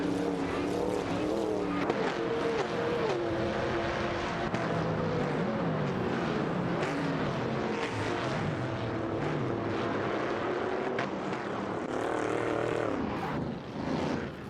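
Race cars in an AI racing game roar past in overlapping passes, engine pitches sweeping up and down as several cars jostle closely, a steady dense engine wash at moderate level.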